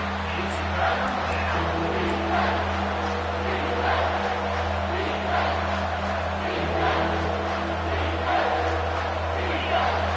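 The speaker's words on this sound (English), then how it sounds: "Decibels rising as the crowd gets behind this defense on third down." A football stadium crowd roars behind the defense on third down, a broad, sustained wall of cheering with rising and falling swells, heard at a distance under a low steady hum.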